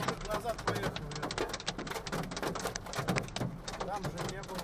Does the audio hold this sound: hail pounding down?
yes